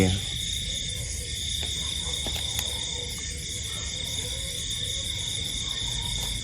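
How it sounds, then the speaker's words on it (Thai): Frogs call at night around a vegetable-growing plot, forming a dense, steady, unbroken chorus of high trilling that holds at the same level throughout. "บรรยากาศตอนกลางคืน เสียงเขียด เสียงกบ"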